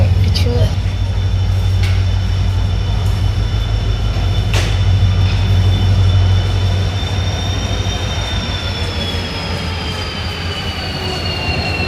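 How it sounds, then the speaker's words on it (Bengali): A train pulls into a station with a steady loud rumble of rolling cars and a long high wheel squeal along the rails, close by, with voices talking over it. "এই যে ট্রেন আইসা পারছে আমরা।"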